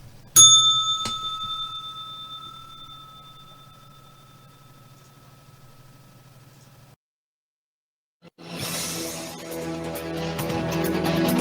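Closing bell of a stock-trading broadcast: one bright bell strike that rings out and slowly fades, then a short silence before music starts.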